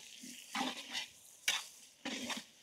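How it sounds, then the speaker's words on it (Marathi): Chopped onion with coarse salt frying in a pan, quiet sizzling broken by a few bursts of stirring and scraping, close and faint, with no voices. "मीठ टाकल्याने कांदा लवकर फ्राय होतो."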